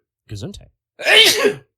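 Two sneezes in quick succession, the first a short voiced burst and the second a louder, breathier explosive sneeze, close and clear in a quiet room.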